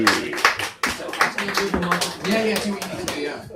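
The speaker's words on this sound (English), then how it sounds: "Give me a round of applause." Audience at a comedian's stand-up gig at the Barge in Hertford claps for a volunteer joining him on stage, a short burst of close, lively applause with voices and laughter mixed in throughout.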